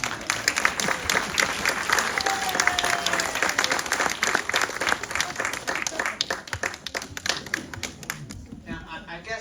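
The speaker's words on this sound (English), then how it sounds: "give yourselves a round of applause" A panel discussion audience applauds, many hands clapping in a dense, lively patter that gradually thins and fades toward the end, with voices mixed in underneath.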